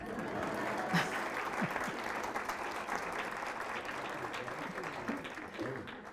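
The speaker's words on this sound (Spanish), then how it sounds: "Aplaudan" An audience at a university public accountability hearing claps steadily for several seconds, a dense wash of applause with a few voices mixed in.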